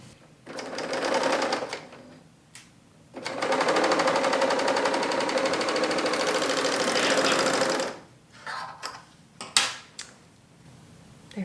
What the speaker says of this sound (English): Let me stitch it real quick.